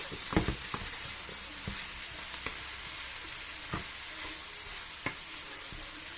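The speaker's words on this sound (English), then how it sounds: "So you allow it to fry. You keep on frying it." Fish rolls fry in hot oil with a steady, fairly faint hiss, broken by occasional sharp clicks of stirring.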